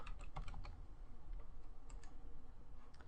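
Typing on a computer keyboard while coding, heard as faint, quick clusters of clicks that fade into a low background hum, with no voices present.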